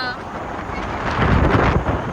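Strong wind blows across an open, treeless area, a rushing, buffeting roar against the microphone that swells louder midway through, with no clear talk.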